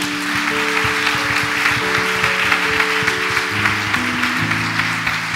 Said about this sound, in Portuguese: Eu queria que vocês aplaudissem Jesus.